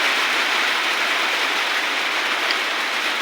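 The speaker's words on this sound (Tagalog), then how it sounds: "Kusog yung uwan sa mua." Heavy rain pours in a dense, unbroken hiss, loud and steady throughout, with no voices or other sounds standing out.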